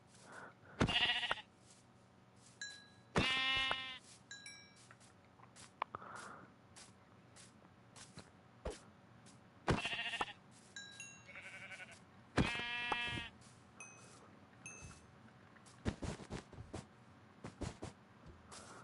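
Several sheep bleat in Minecraft in separate bursts, a few seconds apart, with clicks and soft footsteps in between; no talking.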